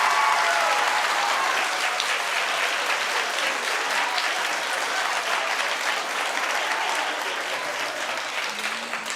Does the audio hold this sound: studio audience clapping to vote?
yes